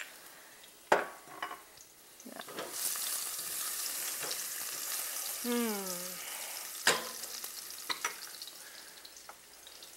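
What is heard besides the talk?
garlic sizzling in oil in a pan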